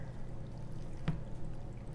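Melted butter pours over a dish of rice in one short, soft splash about midway through, set against a quiet kitchen hum with no talking.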